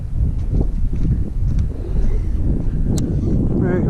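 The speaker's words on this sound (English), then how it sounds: "it's getting super duper windy" Strong wind buffets the microphone outdoors on a fishing outing, heavy low rumbling gusts that swell and ease throughout, close and loud, with faint voices in the background.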